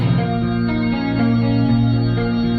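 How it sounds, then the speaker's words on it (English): Clean electric guitar picks arpeggiated chords over soft keyboard pads in a moody, reverberant passage, playing steadily and fairly loud with no voices. "We are back to a clean guitar playing some arpeggiated chords and beautiful keys adding depth, which sounds like this."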